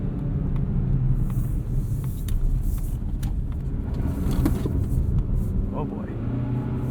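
A 2021 Mazda CX-30 FWD Premium with a 6-speed automatic drives under steady, close engine and road rumble while being shifted with the paddles, and people talk over it throughout.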